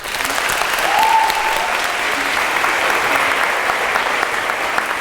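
A large audience at the Oxford Union claps loudly and continuously, a full, even round of applause with a faint crowd murmur underneath.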